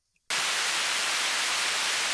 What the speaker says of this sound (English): it provides a nice little constant white noise source